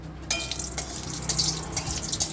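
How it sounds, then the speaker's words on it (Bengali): Chillies fry in a pan with a soft, close sizzle and crackle, broken by small pops and light scraping, fairly quiet and steady with no talking. "আর লঙ্কা ভেজে নিচ্ছি"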